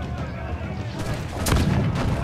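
A ship's cannon fires in the pirate naval game Assassin's Creed IV: Black Flag, a loud, sharp boom with a rumbling tail that lands midway through a brief stretch of heavy battle noise.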